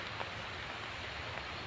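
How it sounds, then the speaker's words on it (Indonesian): Rain falling on a tent in a forest at night, a steady dense hiss of drops with no distinct individual hits, moderately loud and continuous. "ini adalah suara hujan ya, lagi-lagi hujan guys."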